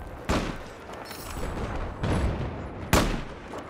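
Battlefield 4 mortar fire: three loud, heavy booming blasts spaced about a second apart, each with a sharp onset and rumbling tail, with no voices.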